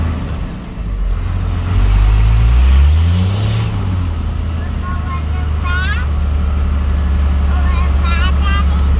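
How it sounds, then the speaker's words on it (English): A 2nd-gen Cummins diesel truck cruises in four-wheel drive with a loud, steady engine drone and road rumble, its pitch sweeping up and down as it shifts, with squeaky rattles over the top. "we're cruising in 4-wheel drive"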